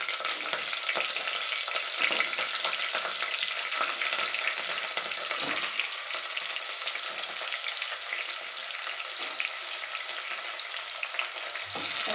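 Mackerel fish pieces fry in hot oil with curry leaves, a dense continuous sizzle and crackle with occasional stirring clatter, close and steady throughout.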